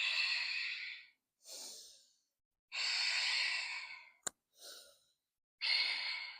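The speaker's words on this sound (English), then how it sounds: "Rhythmic breath here." Ujjayi yoga breathing during a slow forward walk into a fold: long, hoarse, ocean-like breaths come in an even rhythm, with four broad breath sounds and a shorter one, close and clear with quiet gaps between them.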